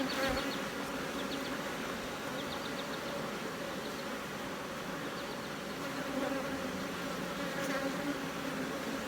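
Honey bees buzz loudly and continuously around an open hive during a frame inspection, a dense close-up drone with no speech.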